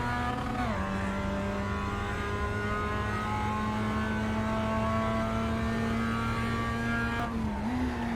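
Race car engine in the iRacing sim holding a steady high drone through a corner, with a brief dip and pitch change near the start and again near the end as revs shift, loud and continuous with no talk.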